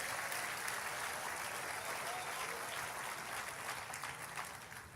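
A church congregation claps steadily in a dense, continuous wash of applause at a low, distant level, holding through to the end without a break.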